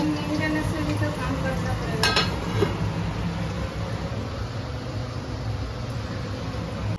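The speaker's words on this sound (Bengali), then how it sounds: "এই যে মা আলু ভাজছে" Potatoes sizzling and frying in a pan in a home kitchen in Kolkata, a steady close hiss with a few clattering stirs of a utensil near the start, and no talking.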